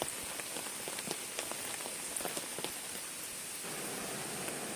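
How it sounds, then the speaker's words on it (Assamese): Steady rain falling on surfaces near a shrine set among garden greenery, a dense continuous patter with scattered louder drops, heard alone without voices. "সেইটো আকৌ বৰষুণ আছে।"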